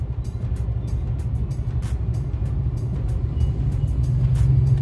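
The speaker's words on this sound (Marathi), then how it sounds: "ट्रॅफिक मध्ये अडकलेलो आहे." Steady low road rumble of traffic in a jam, with engines idling and creeping along on a main road, a continuous dense drone and scattered faint higher hiss and clatter, no voices.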